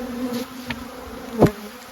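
Live honeybees hum softly inside an opened hive, with a steady low drone and one brief louder buzz as a bee passes close.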